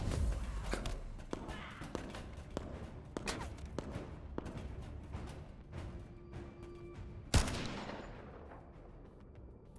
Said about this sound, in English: Did he shoot me through that curtain?